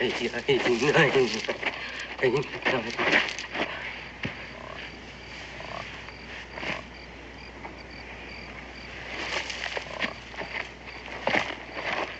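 A frog croaks in an outdoor night setting, its rough calls mixed with a steady background chorus of insects, with irregular croaks rising over the constant ambient buzz.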